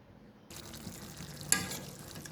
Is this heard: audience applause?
no